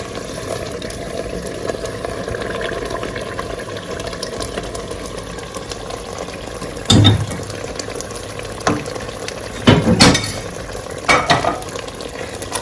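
Beetroot is stirred into a simmering jollof rice sauce in a pot, giving a steady low bubbling sizzle with a few louder scraping strokes near the end.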